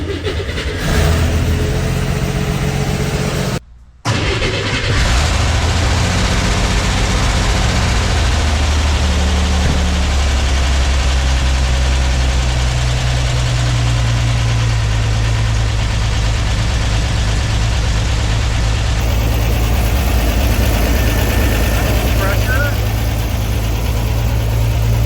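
A flooded Corvair engine with a dropped valve seat cranks and fires, then settles into a steady, loud idle close by. A brief silent gap comes near the start, and a low rumble runs continuously afterward.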